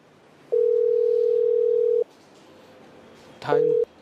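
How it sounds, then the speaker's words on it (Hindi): A telephone line gives a steady dial tone that cuts off, followed after a pause by a brief burst of keypad dialing tones and a short return of the tone, heard close and loud. "अभी हम फोन करते हैं जो एग्जाम बोर्ड है"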